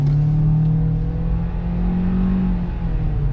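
Interior of a Hyundai pulling away from a stop, engine droning steadily with a rising whirring tone as it accelerates, heard close and continuous from inside the cabin without any talking.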